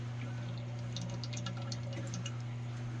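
Leftover household water trickles and drips steadily from an opened pipe during a water heater install, a soft continuous wash over a low steady hum, with no talking.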